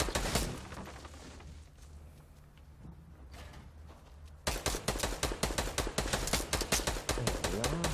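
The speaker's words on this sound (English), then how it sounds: "I don't know where he's shooting." Fortnite gunfire: a loud burst opens, then quieter distant shots go off under faint talk, and a rapid, sustained string of loud automatic-fire reports follows.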